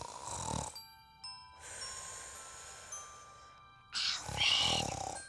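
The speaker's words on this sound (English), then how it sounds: "Alfred, quit snoring!" A cartoon character snores in an animated kids' episode about the Olympic Games, with rasping snore breaths at the start and end around a quieter stretch holding a steady tone and a soft chime.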